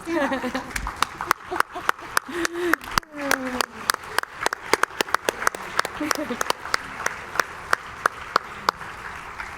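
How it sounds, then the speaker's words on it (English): A conference crowd at the 2024 FAST Global Summit on Angelman syndrome claps and cheers in a loud, sustained burst of applause that fills the whole stretch, with scattered sharper claps and brief voices mixed in. "let's give ourselves a round of applause"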